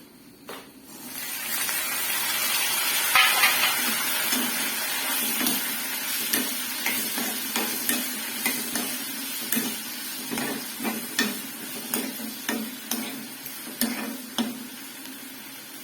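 Mango pieces and green chillies sizzle steadily in an oily pan while a spoon stirs, giving a close, continuous frying hiss broken by regular scraping knocks that grow more rhythmic as the stirring continues.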